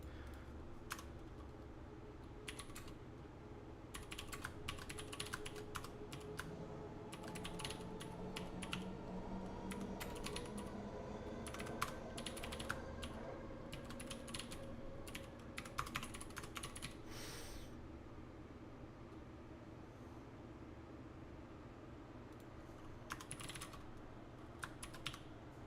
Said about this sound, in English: I hate fat fingering keys.